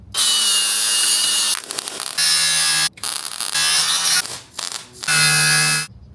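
An angle grinder works metal during an engine swap into a 1966 Chevy C10 truck, making a loud, steady, high whine in several long passes broken by short pauses.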